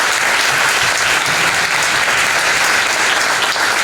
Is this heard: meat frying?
no